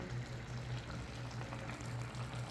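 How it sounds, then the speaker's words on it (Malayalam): A pot of fish curry with sardines and mango bubbles and simmers steadily up close, a soft continuous gurgling with no voices. "കണ്ടോ എൻ്റെ മീൻ തിളയ്ക്കുന്നേ"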